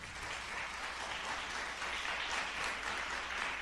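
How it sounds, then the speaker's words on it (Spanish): A church congregation applauds steadily during a resurrection sermon, a dense, even wash of many hands clapping for the whole stretch with no voices above it. "Denle un aplauso al Señor por eso."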